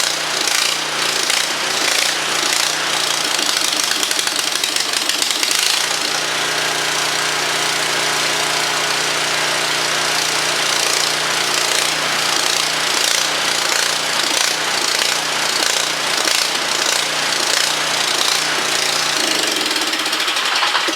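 A snow blower engine runs roughly with the choke off, a loud, steady, uneven chugging and rattling drone that holds for the whole stretch, close to the mic with no talk over it.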